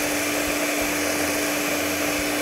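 An electric mixer beats sugar with egg yolks in a bowl for a pineapple piña colada cake, giving a steady, continuous motor whir with a broad hiss and a constant low hum, close and unbroken, with no talk.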